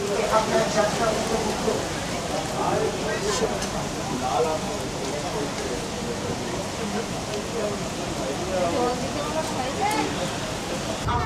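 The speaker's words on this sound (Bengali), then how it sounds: "বাইরে প্রচণ্ড বৃষ্টি হচ্ছে, খুব সুন্দর মনোরম ওয়েদার।" Heavy rain pours outside a train stopped at Ranaghat in West Bengal, making a steady, dense hiss that continues without a break for the whole stretch.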